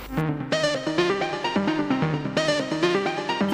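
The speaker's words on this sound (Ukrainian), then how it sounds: "Моє ж арпеджіо звучить ось так." A rapid synthesizer arpeggio stepping up and down in a bouncing, repeating pattern, loud and up front with no voices.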